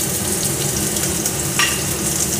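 Grated coconut, green chilli and crushed cardamom going into daliya frying in a pan, a steady dense sizzle close by with a brief scrape of stirring.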